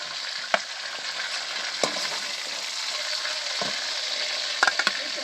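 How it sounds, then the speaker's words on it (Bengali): Chicken pieces fry in oil for a chicken biryani, giving a constant near sizzle punctuated by sharp spatula taps and scrapes at irregular moments, with no voices. "চিকেনটাকে এখন ভেজে নিব।"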